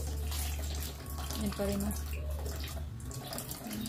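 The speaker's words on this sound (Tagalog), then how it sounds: "yung tubig medyo lumalakas na" Water runs steadily from a tap, a constant rushing hiss throughout, with a person talking over it.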